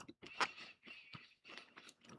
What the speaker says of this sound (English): I don't know if it's a sweet coating on the outside, but it's got a little crunch to it